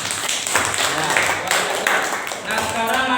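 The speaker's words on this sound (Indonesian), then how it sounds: "Tepuk tangan dulu." Students in a classroom clap their hands together in a dense, steady patter lasting a few seconds, close and fairly loud, with voices mixed in underneath.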